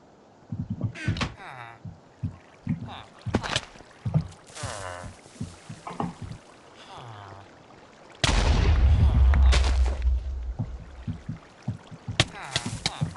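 A Minecraft TNT block detonates with a sudden, heavy boom that rumbles on for several seconds, following a stretch of excited chatter and game clicks.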